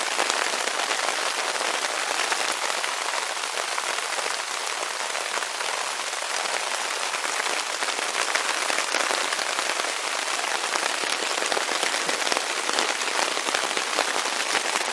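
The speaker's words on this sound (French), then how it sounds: "Ça grêle, ça mouille pas" Hail pelting down steadily on a mountain hike in the Jura and Alps, a dense, continuous hiss of countless tiny impacts with no letup and no voices.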